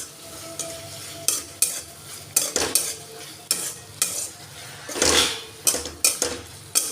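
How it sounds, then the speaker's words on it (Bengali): A spoon stirs ground spice mix into taro curry in a pan, with repeated scraping strokes and metal clinks over a low sizzle, close and fairly loud. "আমি এরপরে এটা একটু নেড়ে চেড়ে মিশিয়ে নেব মশলাটা।"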